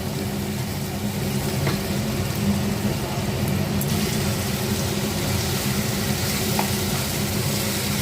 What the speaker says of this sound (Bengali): ভালো করে মশলার সাথে আমি এগুলো কষিয়ে নেবো